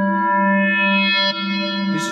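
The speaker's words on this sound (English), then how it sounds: "Can make it more interesting, of course, adding some reverb and also some choral effect." An FM synth note from the Nambu plugin, with reverb and chorus effect, holds steady and bright, its tone shifting slightly partway through before a short noisy burst near the end.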